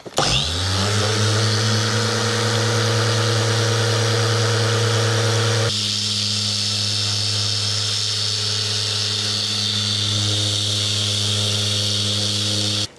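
A machine polisher on car paintwork whirs up at speed setting 6 and then holds a loud, steady tonal motor hum, with its pitch shifting slightly partway through. No one speaks.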